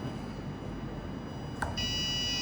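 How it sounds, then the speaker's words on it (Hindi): A buzzer on a soil moisture sensor setup sounds a steady electronic tone that starts partway through, loud and continuous over a constant background hum. "अगर सॉइल मॉइस्चर कम है तो बजर की वॉल्यूम कम है।"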